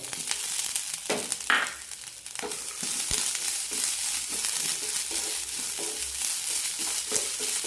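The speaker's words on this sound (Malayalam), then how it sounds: "തേങ്ങയ്ക്ക് ചെറുതായൊരു ഗോൾഡൻ കളർ വരുന്നവരെ വഴറ്റാം" Garlic, shallots, ginger and grated coconut sauté in a pan for a cluster beans curry, sizzling steadily up close with intermittent scraping stirs, no voices.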